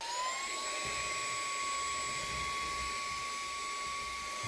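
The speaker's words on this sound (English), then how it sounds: "it was able to suck up pretty much all the sand except for maybe a few little pebbles" A 2-in-1 air blower and vacuum runs continuously with a steady high-pitched motor whine as it sucks up sand. A faint gritty rattle sits underneath the whine.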